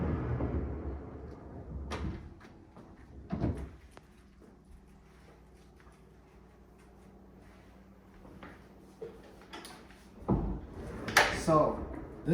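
An old 1914 vintage wooden pocket door in a home kitchen slides and bumps, with a few scattered knocks and rumbles between quiet stretches and a louder thud near the end, with a voice speaking at times.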